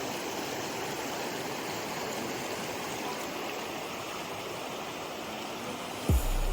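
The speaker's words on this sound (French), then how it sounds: "on se trouve dans un ruisseau de haute montagne" A high mountain stream rushes steadily through nearly open field, a constant broadband wash of flowing water, close and even, with a brief knock near the end.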